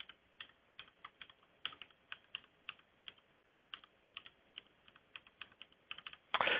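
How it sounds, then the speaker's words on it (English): Computer keyboard keystrokes entering an IP address for an on-prem license server in a browser: a steady run of crisp, close clicks with short pauses, finishing in a louder burst of keys, with no voices. "I'm going to go ahead and type in the IP address of my on-prem license server"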